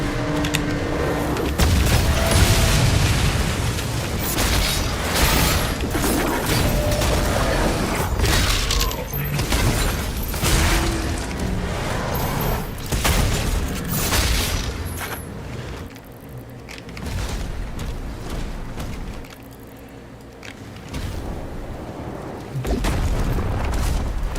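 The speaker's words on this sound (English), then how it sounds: "Oh shit, I took a cannon shot to the face." Cannon shots boom repeatedly in the video game Doom: The Dark Ages, loud heavy blasts and explosions mixed with clanking combat noise in a dense, continuous barrage.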